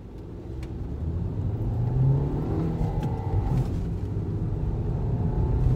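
A 2021 Hyundai Verna SX(O) accelerating during an engine pickup test, the engine's rumble building steadily from inside the cabin with a rising whir and road noise.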